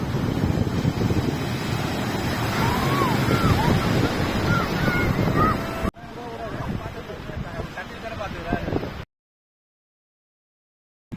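Surf washing ashore on Paradise Beach at Pondicherry, a continuous windy roar of waves with buffeting on the microphone, later quieter, before the sound cuts out to silence.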